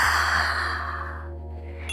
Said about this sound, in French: Petite dernière et on expire.